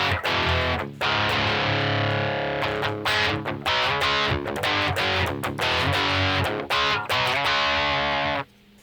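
Electric guitar played through a FUZZimp Obtainium Overdrive pedal on its super crunch setting, loud, saturated distorted chords and riffs with rhythmic palm-muted chugs and brief pauses, ending abruptly.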